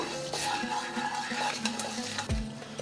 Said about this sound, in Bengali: ফোড়নটা একটু নাড়াচাড়া করে নেব।